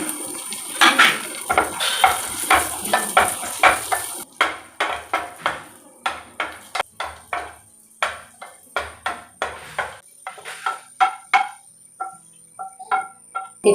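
Semolina is stirred in ghee in a pan for jackfruit sheera, making a run of sharp, rhythmic scraping and clinking strokes of spoon against metal, close and fairly loud, with no talking.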